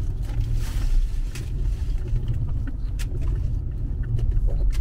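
Mazda CX-5 Kuro Edition SUV driving a slalom at 40 km/h: a steady low engine and road rumble heard from inside the cabin, with occasional soft knocks and clicks, fairly quiet and continuous throughout.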